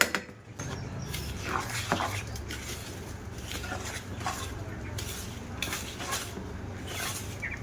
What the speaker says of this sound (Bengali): ময়দাটা এবার ডিমের সঙ্গে একটু মিশিয়ে নেব